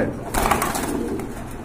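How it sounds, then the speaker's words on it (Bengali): Kiteel-bloodline pigeons cooing at a pigeon market, a short soft burst of close cooing over a murmuring background, with no clear talking. "এটা হচ্ছে কিটেল কবুতর, মাশাআল্লাহ কিটেল ব্লাড লাইনের কবুতর"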